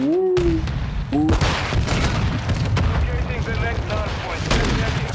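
Gunfire from the video game Modern Warfare 2 with an MK2, dense and continuous loud shooting and booms across the whole stretch, layered with game effects and brief tonal beeps.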